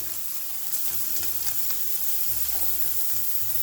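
Shrimp sizzling steadily in a hot pan right after being flipped, a close, continuous frying hiss with a few soft clicks and scrapes, no voices.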